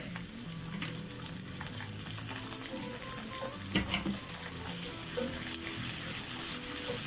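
Fresh garlic, about three cloves, sizzling in a pan as part of Tuscan scallops, a soft steady fry with a few light clinks and stirs, fairly quiet and without talk.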